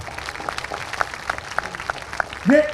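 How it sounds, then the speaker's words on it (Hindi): A village rally crowd in Chhara claps in scattered, fairly soft bursts, and a voice briefly cuts in at the very end. "तो एक बारी छारा गांव के लिए जोरदार तालियां बजा दो।"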